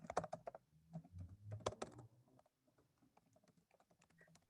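A computer keyboard is typed on in quick, irregular bursts of clicks, near and fairly quiet, with short pauses between runs of keystrokes.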